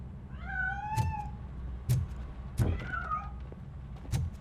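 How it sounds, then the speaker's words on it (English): A cat meows several times in a RoboCop: Rogue City video game scene, drawn-out harmonic calls at about 0.5 and 3 seconds, with sharp clicks and thuds between them over a low game hum. "That cat must be hiding inside."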